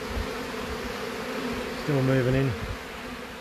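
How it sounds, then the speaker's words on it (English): Bees swarming in chaos during a wall cut-out of a hive, a steady buzzing drone throughout with one bee flying close and loud for a moment; someone speaks briefly over it. "There's a few bees hanging around too, so there's a lot flying around and big chaos"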